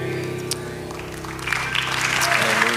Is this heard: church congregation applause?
yes